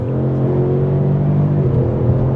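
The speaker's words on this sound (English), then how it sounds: "I think this 4-cylinder has quite a nice sound" A 2022 Ford Mustang 2.3-litre four-cylinder engine pulling steadily under acceleration in third gear, a smooth, continuous hum with a low rumble, heard from inside the convertible.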